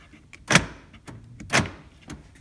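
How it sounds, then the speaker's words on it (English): Power door locks on a Subaru WRX STi actuate twice in quick succession, each a sharp, close mechanical clunk about a second apart, with no talk over them. "Door locks are working."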